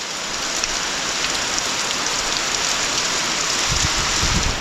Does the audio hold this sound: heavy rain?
yes